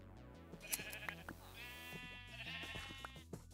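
Minecraft sheep bleat twice in quick succession, wavering nasal baas heard close over quiet game music with a few soft clicks.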